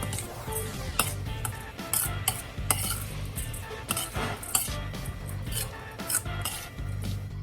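Flattened young rice tossed by hand with hot sugar syrup for a Thai dessert with young coconut, giving close, repeated clinks of a utensil against a bowl and soft scraping in an uneven stirring rhythm. No one speaks over it.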